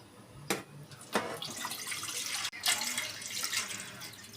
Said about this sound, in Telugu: ప్యాన్ పెట్టుకొని ఫస్ట్ వాటర్ వేసుకుందాము